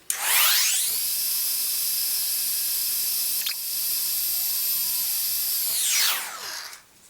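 An embossing heat gun melts embossing powder on a stamped design. Its steady, loud blowing hiss starts abruptly, runs evenly for about six seconds, then winds down and cuts off.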